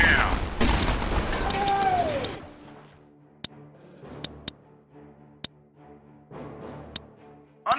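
Artillery batteries fire in the strategy game Battle Islands: Commanders, a string of sharp, evenly spaced booms ringing out one at a time after a dense burst of game noise and music.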